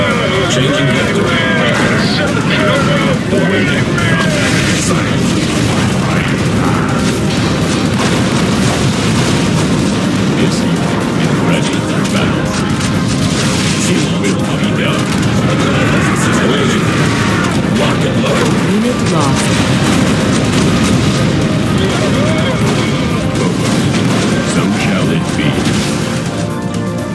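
Missile strikes and explosions in Command & Conquer Generals Zero Hour fill the mix with dense, continuous booms and crashes, loud and layered under game voice lines and music-like clutter.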